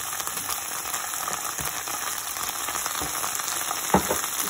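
Chicken 65 sauce sizzles steadily in a hot pan as it is stirred and mixed, a constant bright frying hiss with occasional scraping knocks from the spoon, no talking.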